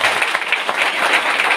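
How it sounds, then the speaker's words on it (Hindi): An audience at an RCM business plan talk gives loud, dense applause that holds steady for the whole short stretch. "बात समझ में आया तो एक बार जोरदार ताली बजाइए।"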